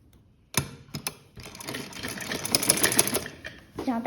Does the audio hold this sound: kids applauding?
no